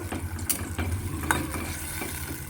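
Chhana is stirred in a pan with added hot water, making soft, irregular scraping and sloshing with a faint sizzle, close by and with no talking.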